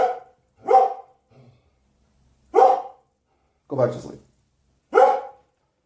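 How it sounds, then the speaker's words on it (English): A dog barks in four or five short, loud bursts spaced about a second apart, with a person speaking briefly between the barks. "What are you barking at?"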